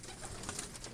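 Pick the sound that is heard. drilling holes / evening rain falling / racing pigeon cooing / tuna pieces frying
racing pigeon cooing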